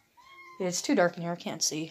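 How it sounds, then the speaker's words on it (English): A cat gives a short, rising meow indoors in a dark room of a friend's house during hide and seek, heard alone at first and then followed by a person talking close by. "I mean, I heard the cat."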